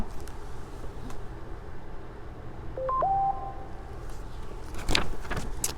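A short electronic mobile phone notification chime rises in two quick tones, faint against a steady room hum, with no talk around it.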